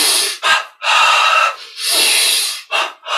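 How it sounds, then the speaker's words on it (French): Loud, close breathing during a meditation exercise: several long, airy inhalations and exhalations, each separated by brief pauses, with no voice over them. "Et on inspire."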